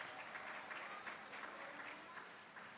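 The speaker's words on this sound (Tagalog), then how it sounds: "Grabe po ang inyong palakpak sa Diyos" A congregation at an El Shaddai anniversary worship celebration keeps up steady, faint applause, an even wash of many hands clapping heard from a distance.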